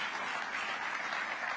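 Steady, dense applause from an audience at a mayor's State of the City address, continuous clapping filling the hall at an even level without a break.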